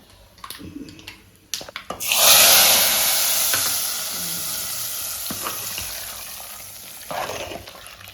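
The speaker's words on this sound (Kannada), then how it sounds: "ಈಗ ಒಗ್ಗರಣೆ ಕೊಡ್ತಾ ಇದ್ದಾರೆ ಪದಾರ್ಥಕ್ಕೆ." Tempering spices hit hot oil for a bappangai curry, starting with a few knocks and clatters, then bursting into a loud, close sizzle that slowly settles into a steady frying hiss with a stirring scrape near the end.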